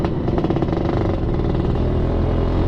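Suzuki Satria 120R motorcycle fitted with an aftermarket exhaust, heard while riding: a steady, loud buzzing engine drone with a rapid pulsing throb that holds even throughout, no talking.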